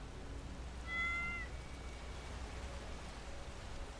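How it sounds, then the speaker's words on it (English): A single short cat meow sounds once over steady rain-like background hiss in the Skyrim game, moderately close, with no talk. "You, kitty. Come here, Rocky."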